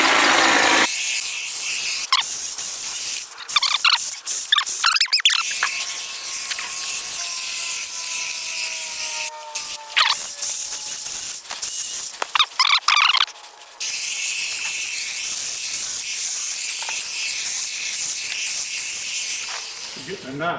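Hedge trimmers cutting brush outdoors, a steady high buzzing whine running almost the whole time, briefly dropping out around the midpoint before resuming loud and continuous.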